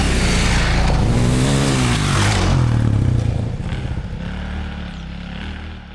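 A 2018 Husqvarna 501 FE enduro motorcycle engine revving close and loud, the pitch rising and falling through several throttle blips before settling into a lower, steadier idle.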